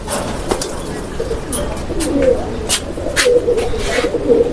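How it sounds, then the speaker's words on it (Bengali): Several pigeons coo in low, throaty bursts, close by and overlapping, with occasional faint rustling and flutters. "দেখেন কিভাবে ডাকাডাকি করতেছে"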